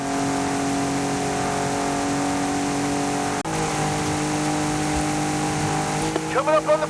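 A car engine holding a steady, loud drone during a race in Forza Horizon 5, with a brief dip partway through and a shift in pitch near the end.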